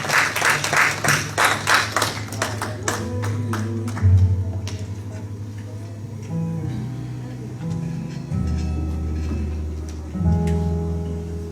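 A church congregation at a Haitian praise service cheering and applauding the Lord, rhythmic clapping loud at first, then fading under sustained organ or keyboard tones and voices.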